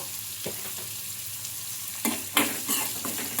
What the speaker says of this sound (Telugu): మనకు ఇవి ఆనియన్స్ గోల్డెన్ కలర్ వచ్చే వరకు అయితే ఫ్రై చేసుకోవాలి.